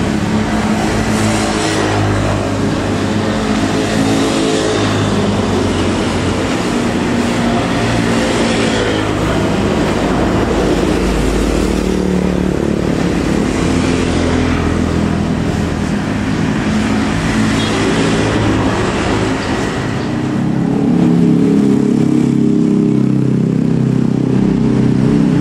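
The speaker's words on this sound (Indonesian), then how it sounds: "Ada bus Karunia Bakti." Karunia Bakti bus driving on a road at Cipatat near Bandung: a loud, steady engine rumble with road noise throughout, growing heavier toward the end.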